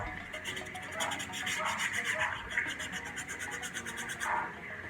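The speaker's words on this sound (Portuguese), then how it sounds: "Aqui atrás eu vou lixar bastante também, por causa da cola segurar melhor." Sandpaper rasps against the back of a wooden speaker box in quick, rhythmic back-and-forth strokes, close by but fairly quiet.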